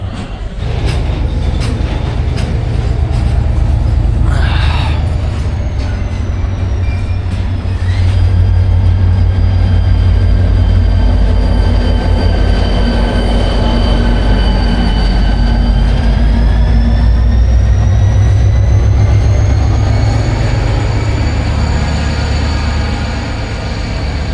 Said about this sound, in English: this container train is kind of coming to life.